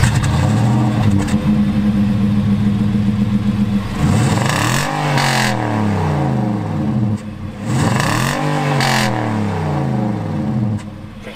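A 2020 Nissan Titan XD pickup's 5.6 liter V8 revs hard twice, each blip climbing and falling in pitch, loud and close, with a steady idle rumble between and no talk.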